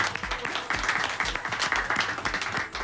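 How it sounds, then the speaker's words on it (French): Students clapping together in a Radio Côte d'Ivoire studio during a live broadcast: dense, lively applause sustained throughout at steady volume, with no talk over it. "ils s'applaudissent très très fort"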